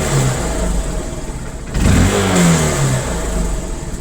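A carbureted 2009 BS2 Hero Honda Hunk motorcycle running on E20 petrol, recorded up close: a steady idle, then a single throttle blip that rises and falls back to idle, with no talk.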